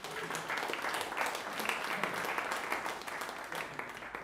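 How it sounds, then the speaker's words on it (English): A live podcast audience claps together in a sustained round of applause, dense and even from start to finish, no voices on top. "Round of applause."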